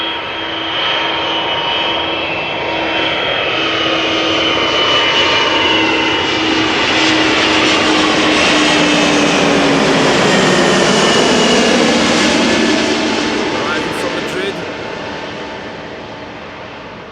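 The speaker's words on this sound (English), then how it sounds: "This is an A300-600 from DHL, a banana." A DHL Airbus A300-600 cargo jet arrives at Amsterdam Schiphol, passing close and loud with a rising then fading engine roar and whine that swells to a peak mid-pass before easing away.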